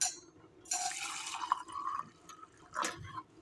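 Water is poured into a glass or vessel holding spoonfuls of coriander seeds, caraway and cumin, a brief close splashing fill with short trickling bursts and gaps between them.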